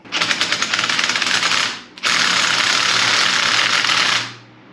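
A powered ratchet backs out rocker box bolts on a Honda 350X engine in two loud, close bursts of buzzing whir, each winding up and then trailing off, with a short gap between them.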